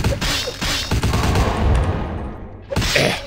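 Enemy gunfire in Vampire: The Masquerade – Bloodlines rattles out in loud, rapid bursts, a first volley, a brief lull, then another close burst of shots.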